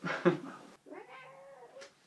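A house cat gives a drawn-out, wavering meow of about a second, close and clear, following a short burst of sound at the start.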